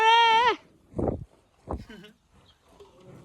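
A buffalo on a farm lets out one loud, drawn-out call, followed by short bursts of people talking nearby.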